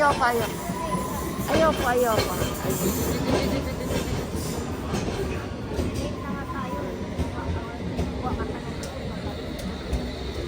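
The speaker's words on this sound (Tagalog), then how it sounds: "Ayan na may train." A train pulls into a busy London station, its rumble and wheel squeals rising and fading while people talk nearby and the platform crowd murmurs.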